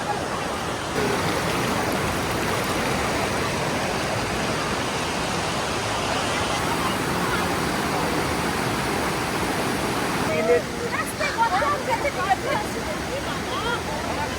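Cold river water rushing over stones in a forest, a dense, steady roar of flowing water heard close and loud, with faint voices mixed in toward the end.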